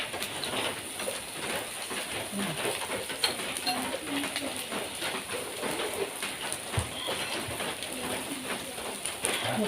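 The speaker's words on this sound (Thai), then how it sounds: "บรรยากาศฝนตก" Steady rain falls on an evening Thai outdoor pork-grill (mookata) family meal, a dense even hiss with scattered drips and taps, while birds coo in the background throughout.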